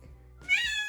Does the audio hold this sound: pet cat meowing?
yes